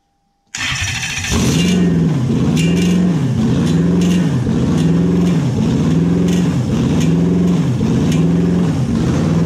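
Toyota 1UZ-FE V8 engine running on only two cylinders, heard close up as it cranks and catches, then settles into a loud, lumpy, uneven idle with a steady rhythmic pulsing.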